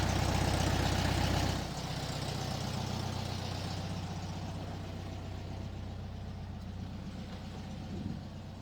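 A 1968 VW Bus engine, freshly installed, idles steadily up close with a continuous low throbbing rumble that settles slightly after the first moments, running alone without voices.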